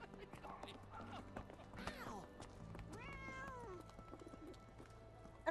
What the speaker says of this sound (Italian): Era un gatto.